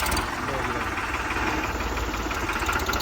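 A 3630 model diesel tractor engine idles with a steady, low throbbing chug, close and continuous for a few seconds.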